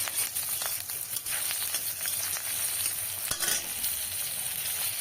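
Garlic and green chilies frying in a pan for mustard-greens bharta, stirred: steady close crackling sizzle with soft scraping throughout.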